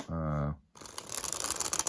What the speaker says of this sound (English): I'm going to shuffle it.